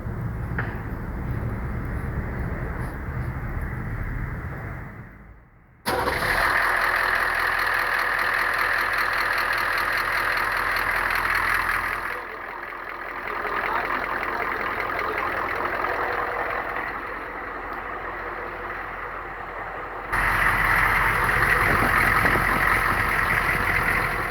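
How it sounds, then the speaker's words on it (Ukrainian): A HMMWV diesel engine idles steadily and loudly with a low rumbling knock, cutting out briefly and restarting, continuing with small shifts in level. "Запускаем двигун"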